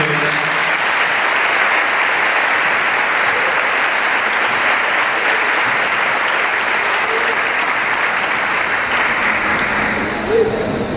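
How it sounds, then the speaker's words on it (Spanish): Sustained, loud applause from a congregation at a church gathering, a dense wash of many hands clapping that continues steadily throughout without a break. "Un aplauso maravilloso al Espíritu de Dios."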